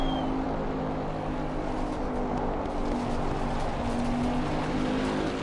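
A Bentley GT race car in Assetto Corsa Competizione on PS4 at the Zolder circuit accelerates out of a corner. The engine holds a steady, droning note that stays loud and even throughout, with no talking.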